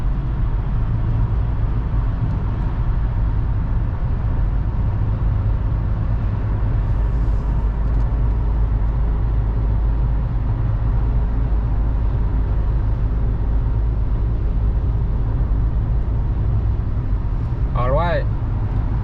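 A car driving on the highway from North Carolina to DC, with a steady, loud, close interior road and engine rumble that runs unbroken throughout and a brief higher-pitched tone near the end.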